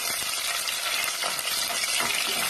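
Chopped small onions sauté in hot oil for a fish curry, a continuous loud sizzle with occasional stirring scrapes and no talking.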